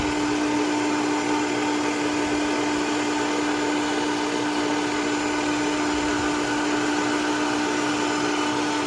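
An electric tomato juicer runs steadily with a loud, continuous motor whine and a strong fixed hum, unchanging from start to finish with no talking over it.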